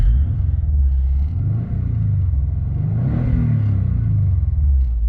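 A Subaru 2.5RS engine revs up as the car pulls away, a loud, close, low rumble that climbs in pitch and then settles, with slight chatter in the drivetrain.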